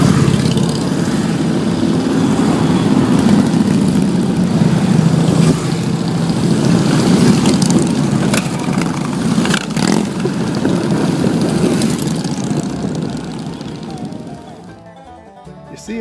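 Harley-Davidson motorcycle engines roar loudly and continuously at Sturgis Bike Week, a dense rumbling crowd of bikes that swells and slowly fades near the end.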